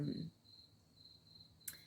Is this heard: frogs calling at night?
yes